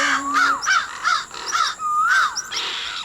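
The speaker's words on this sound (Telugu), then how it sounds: "ఈ కాకులు గోలా పడలేకపోతున్నాను" Cartoon crows caw repeatedly in a noisy, overlapping chorus, harsh calls coming in quick bursts close by, alone with no talk.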